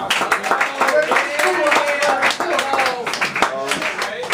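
Scattered clapping from an audience at a spoken word event, answering a question about a book. The separate hand claps are heard under a voice that keeps talking throughout.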